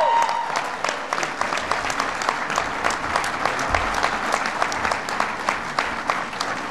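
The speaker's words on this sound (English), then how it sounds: "Give Tim Kaine a big round of applause." Sustained applause from a large audience at a Democratic National Committee winter meeting, honoring Tim Kaine: dense, steady clapping across the whole stretch with a faint crowd murmur underneath.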